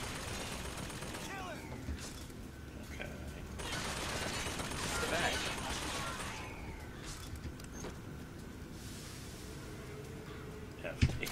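Enemy gunfire in the game Bioshock Infinite sounds as repeated bursts of shots over a noisy battle backdrop, swelling in the middle and then easing off, with a sharp hit near the end.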